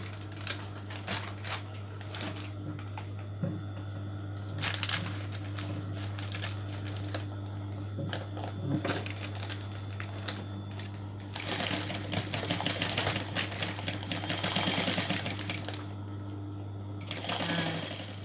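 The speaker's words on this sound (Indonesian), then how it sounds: "Kemudian sisi sebelahnya juga dijahit ya." A sewing machine steadily stitches a bag made from recycled plastic, its rapid mechanical chatter and steady motor hum running close and continuous for about eighteen seconds, with brief pauses and speed changes.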